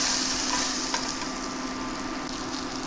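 Lemon pieces grilling in butter in a pan for flounder francese, giving a steady, close, bright sizzle and crackle that holds at an even level throughout, with no talking.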